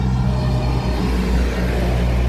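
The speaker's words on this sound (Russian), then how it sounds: "Ужас, постоянно машины." Steady heavy traffic rumbles along a busy street in a noisy city neighbourhood, cars passing close and loud with a continuous low roar and no pauses.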